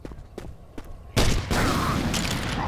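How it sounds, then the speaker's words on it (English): Explosions and gunfire in Left 4 Dead: a few sharp shots, then a loud blast that gives way to a sustained roar of rumbling gunfire and explosions. "All I can hear is explosions now."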